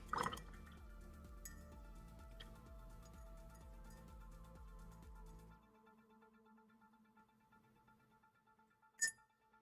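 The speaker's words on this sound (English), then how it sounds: "I need to rinse the brush off" A paintbrush is rinsed in water, giving soft liquid drips and trickles for several seconds before it goes nearly quiet, then a single brief clink or splash near the end.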